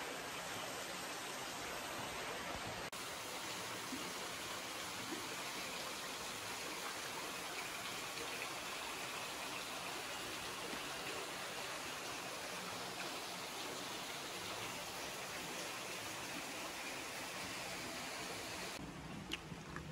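Water flows inside the Cave and Basin historic site cave in Alberta, Canada, a steady, soft rushing wash that stays even and faint throughout with no talking.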